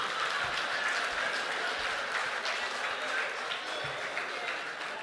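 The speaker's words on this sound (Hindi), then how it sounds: "तालियां बजाइए।" Audience at an international mushaira and kavi sammelan poetry gathering in Bahrain applauding, a steady, fairly distant wash of clapping with hall ambience throughout.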